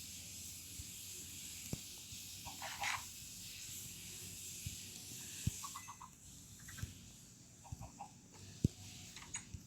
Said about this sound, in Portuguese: agora eu tenho bem muitas galinhas